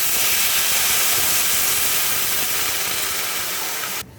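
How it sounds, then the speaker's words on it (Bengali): Water poured into a hot pan of fried rice erupts in a loud, steady steamy hiss that roars almost continuously for about four seconds, then drops off sharply as it settles. "দেখো জলটা দেওয়ার সাথে সাথে ফুটে উঠলো জলটা"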